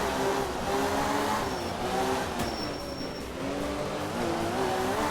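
A Group 2 rally car in the video game Art of Rally, racing a dry Finnish stage, engine droning and revving steadily throughout with shifting pitch as it accelerates, tires occasionally squealing.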